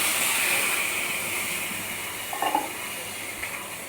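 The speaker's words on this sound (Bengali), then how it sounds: "এখানে সুজিটাকে চাপিয়ে দিয়েছি আর তার ভিতরে এই চিনির শিরাটি ঢেলে দিচ্ছি" Sugar syrup poured into semolina cooking in a pan for sweet barfi, a steady hiss with a brief splash or stir in the middle, nearby and moderately loud, with no talking.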